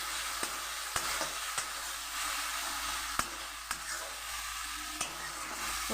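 A spoon stirs chili and turmeric powder masala into a gravy in a hot oily pan for a bhetki fish curry: soft continuous sizzling broken by sharp, irregular scrapes and taps of the utensil against the pan, with no talk.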